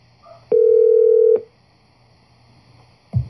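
A telephone call being placed to a tech support line: a steady dial tone holds for nearly a second, then cuts off, followed by a brief burst of sound near the end. No one speaks over it.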